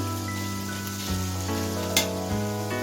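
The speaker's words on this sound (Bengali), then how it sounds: "দিয়ে এখন আমি সবজিটা নরম পর্যন্ত একটু ভেজে নিব" Snake gourd and other vegetables with garlic, pepper and salt fry in a pan, giving a steady, moderate sizzle over a constant low humming tone, with a brief louder crackle partway through.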